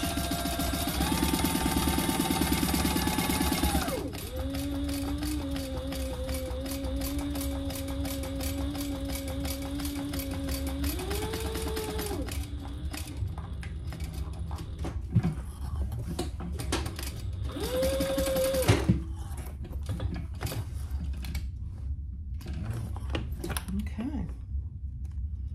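Domestic sewing machine stitching cotton quilting lining for a laptop case, a steady motor whir running in sustained bursts with short pauses, close and loud.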